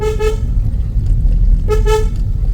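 A Hyundai Grand i10 Nios horn toots twice on a narrow, winding road to Dawki, Meghalaya, two short blasts about a second and a half apart, over a low rumbling engine and road noise.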